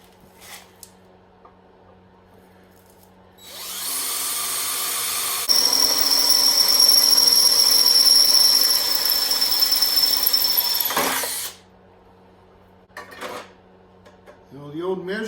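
Metal being drilled for plug welding in a rust repair, a steady loud grinding whine running about six seconds with a sharp high tone, then stopping; quieter clatter before and after.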